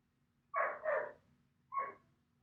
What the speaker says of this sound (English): if you hear a dog barking in the background